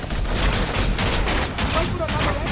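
Rapid gunfire from Fortnite Air Royale gameplay, a dense continuous burst of shots sprayed across the whole stretch, loud and close, with dense game noise under it.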